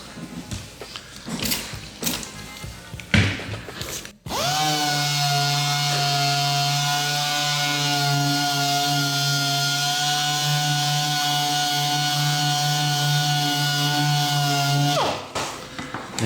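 A power sander fitted with 1500 grit paper colour sands a Ford body panel, spinning up sharply into a loud, steady whine that holds for about eleven seconds before winding down, with brief handling noise before and after.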